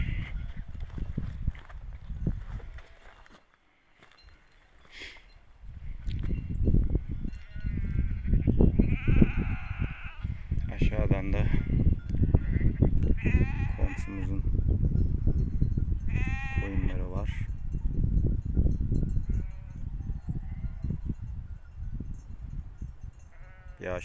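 Several sheep bleat on and off outdoors while grazing on a slope, over a steady rustle of grazing, some calls near and others farther away.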